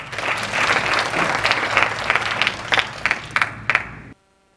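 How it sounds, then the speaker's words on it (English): Audience at a dental conference applauding, a dense burst of clapping from a crowd that thins into a few scattered claps before stopping abruptly. "give Dr. Emily Lee Tran and all the ladies here a big round of applause"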